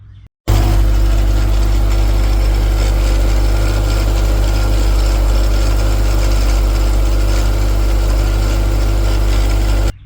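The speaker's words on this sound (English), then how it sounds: "I could hear a rattling noise in the supercharger" A car engine with a damaged, rattling supercharger runs steadily at close range for about ten seconds, a loud continuous low rumble with buzzing vibration and metallic rattle on top, without talk.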